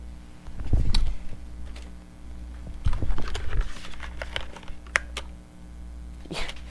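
Bursts of rapid keystrokes on a computer keyboard during a desktop PC upgrade session, clustered taps with short pauses between flurries, fairly close and clear with no talking.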